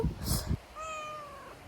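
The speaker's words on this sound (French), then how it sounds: "on a des nouveaux chatons qui viennent juste de naître" Newborn kittens give thin, high-pitched meows, several drawn-out mews close by after a brief burst of rustling and handling noise.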